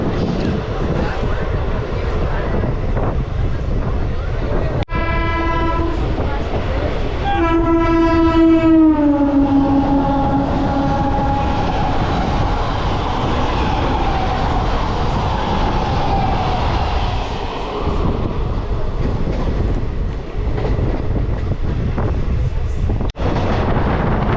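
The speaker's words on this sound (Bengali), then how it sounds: "ট্রেন আমাদের ভালোই চলছে এখনও" A fast passenger train to Digha rumbles steadily along the rails near Bauria with a constant rolling roar, and a horn sounds in short blasts early on before the clatter continues.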